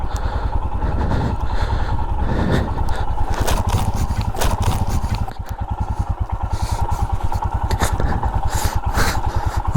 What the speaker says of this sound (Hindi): रेत की वजह से बाइक फिसल रही है काफ़ी ज़्यादा